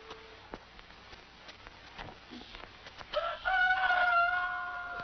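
A rooster crows at dawn in a narrow valley village, a long rising and falling cock-a-doodle-doo in the second half, fairly close and clear over a faint outdoor background.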